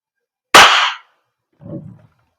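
An EMG STI 2011 Combat Master replica pistol fires one sharp, loud, close crack that rings out briefly, followed about a second later by a softer, duller thud.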